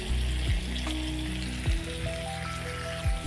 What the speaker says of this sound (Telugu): చూడండి, కర్రీ బాగా ఫ్రై అయిందండి. ఆయిల్ కూడా బయటకు వచ్చేసింది.